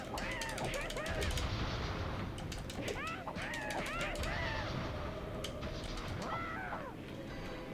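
Rapid crackling bursts of the Earth Breath attack in Legend of Spyro: A New Beginning, repeated in quick volleys with swooping chirps, loud and close under a speaking voice.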